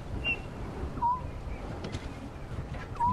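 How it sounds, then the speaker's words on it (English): Wild birds call in the African bush, including chinspot batises and a southern boubou: a few clear, short whistled notes ring out over a steady low background rumble of the open bush. "I just want you to listen to the amazing birds that are calling here now"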